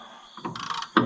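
A ratchet works on an Allis-Chalmers 200 tractor under repair, in two short mechanical bursts of whirring clicks, the second starting sharply and louder.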